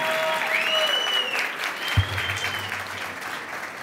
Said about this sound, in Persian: احسان رو تشویق کنی لطفا